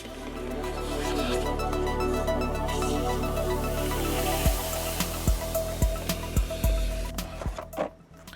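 A shop vacuum runs steadily with a broad, continuous roar during work on the engine air filter of a 2.3L Ford Mustang EcoBoost, then cuts off, leaving a series of sharp knocks and clunks.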